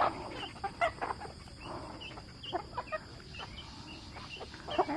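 A mother hen with her chicks clucks and peeps in soft, scattered calls, fairly quiet and close, with faint rustling and no talk.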